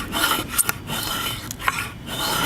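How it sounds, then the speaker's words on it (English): A spokeshave cuts shavings from a wooden workpiece clamped in a shaving horse, giving a close, loud rasping scrape in quick repeated strokes with brief pauses and no talk. "or a spoke shave to refine it."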